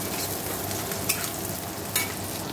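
Onions fry in hot oil for homemade chowmein, giving a dense, even hiss of sizzling up close, with two brief scrapes of a stirring spoon and no voices.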